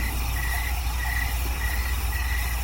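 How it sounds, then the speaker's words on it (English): Crickets chirp steadily in a quiet room, a thin, continuous high trill with soft periodic pulses over a low background hum, with no talking. "I think this was the first time that we've had guest crickets."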